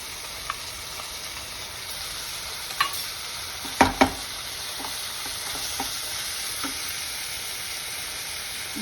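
Chopped tomatoes with a pinch of turmeric fry in a pan, a continuous close sizzle with a few sharp clinks of a spoon stirring partway through.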